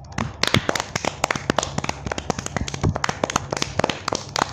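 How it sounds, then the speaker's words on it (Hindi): Cartoon parents applaud children at a prize ceremony, a fast, uneven patter of sharp claps and taps that is loud and close, with no talk over it. "सभी पेरेंट्स खुश हो जाते हैं और बच्चों के लिए तालियां पीटते हैं"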